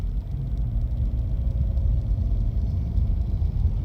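A 2018 Subaru Impreza with a CVT accelerating under steadily increasing throttle, heard as a constant low engine and road rumble from the cabin, with no talking.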